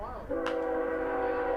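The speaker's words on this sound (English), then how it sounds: "you can hear a train rumbling in the distance here in Springfield" A train sounds its horn in the distance near a baseball field in Springfield, a sustained multi-tone blast starting after a brief rumble and holding steady, moderately loud behind the ballpark ambience.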